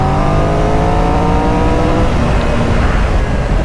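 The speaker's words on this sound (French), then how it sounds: "Il marche du tonnerre ce moteur. En plus je trouve qu'il a un bon petit son." A BMW GS motorcycle engine revs hard and loud, its pitch climbing in steady harmonic sweeps with a rough, throaty low end that stays strong throughout, close to the microphone with no talking.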